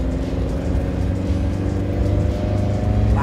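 A camper van accelerates along a road, its engine humming low and steady, then rising slightly in pitch near the end, with no voices present.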